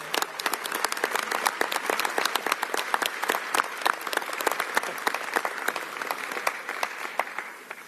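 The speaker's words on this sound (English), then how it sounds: "Give everybody a big round of applause," A crisp round of applause at a governor's bill signing, a modest crowd clapping steadily with sharp distinct claps for several seconds.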